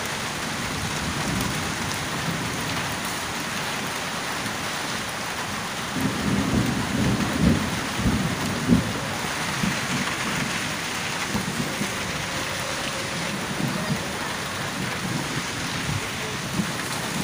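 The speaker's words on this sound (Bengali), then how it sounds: "পুরাদমে ঝড় উঠে গেছে, গাছের পাতা পড়া শুরু করেছে। এত বৃষ্টি, প্রচুর মেঘ, চতুর্দিকে বৃষ্টি।" A cyclone storm with heavy rain pours down in a constant dense roar, and deep thunder rumbles swell midway through, with wind buffeting the microphone and no talking.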